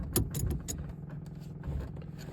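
The engine of a 1950 Jowett car runs quietly at idle, a faint low rumble with a few light clicks and rattles near the start.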